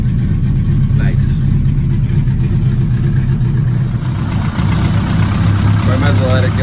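A classic Mini's engine idles steadily after a Pertronix ignition install, a continuous close low rumble with a voice talking over it.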